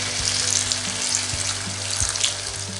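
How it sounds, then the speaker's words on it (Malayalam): Water is poured into a hot pan of frying potatoes and vegetables for vegetable pulao, setting off a loud, close crackling sizzle with bubbling and a few soft knocks, without speech. "അല്പം കൂടെ വെള്ളം ഒഴിച്ച് കൊടുക്കാം"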